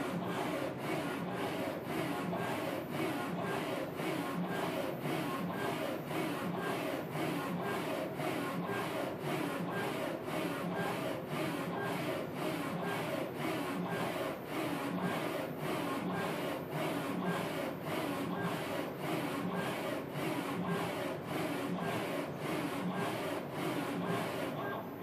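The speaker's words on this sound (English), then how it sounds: "we can see here now the print process is working well" A Focus Athena Jet Plus DTG printer running a test print without ink gives a steady mechanical whir with an even, rapidly repeating rhythmic pulse, with no voices.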